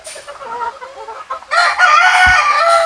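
A Gilmore gamefowl rooster, the mother hen line on a breeding farm, clucks in short close calls before bursting into a loud, bright crow that carries to the end with a faint thump underneath.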